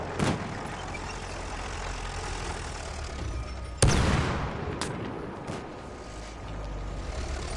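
A tank in Battlefield 1 rumbles under a steady low engine drone, with one heavy, sharp blast midway and scattered fainter distant bangs around it.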